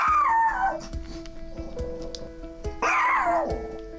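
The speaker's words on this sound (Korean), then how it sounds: "조금만 다가와도 이렇게 짖는다네요" A mother dog guarding her newborn puppies lets out two loud, harsh, falling yelping barks, one at the start and one near the end, with quieter sounds in between.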